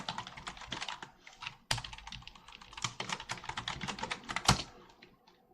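Fast, uneven keystrokes on a computer keyboard while a Linux install command is typed in, a close, dense run of clicks with occasional sharper key hits and short pauses.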